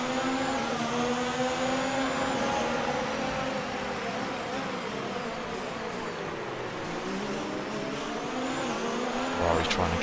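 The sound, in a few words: race car engines at race start in video game F1 2019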